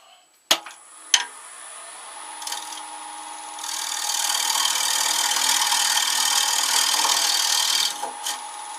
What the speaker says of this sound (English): Now to cut the tenon, I use this little 3-pointer tool, excellent little gadget.